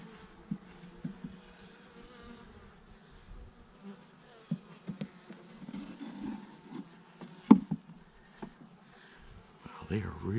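Honeybees buzz faintly and intermittently around a newly installed hive during an early check, with scattered handling knocks and clicks and a louder thump near the end.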